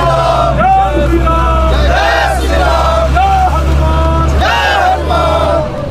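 A crowd of pilgrims from Bihar setting out for Ayodhya on a rath yatra: a loud, continuous mass of raised voices and shouting close by, over a steady low engine rumble.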